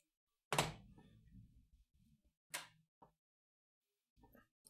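A game disc goes into a console, marked by a sharp thunk and handling clatter, then a second firm knock and a few fainter clicks. The sounds are separated by near silence and stay quiet overall.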